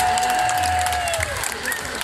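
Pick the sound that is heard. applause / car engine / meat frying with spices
applause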